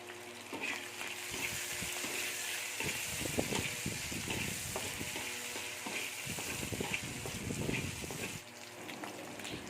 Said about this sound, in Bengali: আমি এগুলো তেলে ভালো করে ভেজে নিচ্ছি।